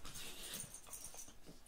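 Playful dogs whimper and breathe in short whiny, wheezy bursts, close and fairly loud against a steady noisy background.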